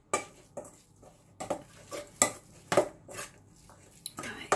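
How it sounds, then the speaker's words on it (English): Burger mince being mixed with onion, parmesan and ketchup in a bowl, giving a run of wet, squelchy stirring and clinking pushes at an uneven rhythm, fairly close and moderately loud. "we're mixing all that onion and the parmesan and the ketchup"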